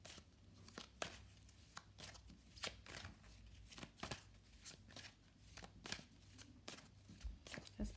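Tarot cards are shuffled by hand before a reading, producing a quick run of soft riffling flutters and papery slaps, close and quiet, repeating at an irregular pace with no talking.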